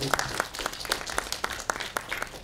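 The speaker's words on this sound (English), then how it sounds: "You deserve a big round of applause." Scattered, fairly sparse clapping from a small audience at a hospital postgraduate medical training session after a case presentation on tongue cancer, individual claps distinct and irregular, moderately faint.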